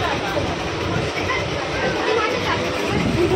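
A local commuter train rumbling along on its rails, a steady rolling drone with faint clatter and soft carriage chatter throughout.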